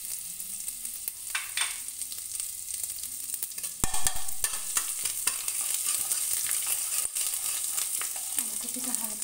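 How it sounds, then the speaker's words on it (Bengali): Chopped ginger frying in a pan with tempered spices, a bright continuous sizzle with scraping stirs and occasional clatters of a spoon, fairly close. "আদা কুচিটা হালকা ভাজা হয়ে আসলেই"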